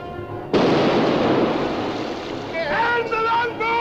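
A cannon blast from a ship in a 1945 pirate film erupts suddenly and rumbles away into a long roar, with a voice shouting faintly near the end.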